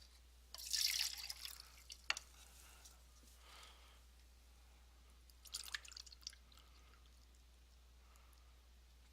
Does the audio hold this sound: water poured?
yes